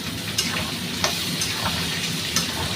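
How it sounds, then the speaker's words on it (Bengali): Chopped onions fry in hot oil for a chicken curry, a short close sizzle with soft crackles and light stirring clicks throughout. "তেলে অল্প গরম হয়ে যাওয়ার পর আমি অল্প পেঁয়াজ দিয়ে দিচ্ছি। পেঁয়াজটা ভেজে নিই।"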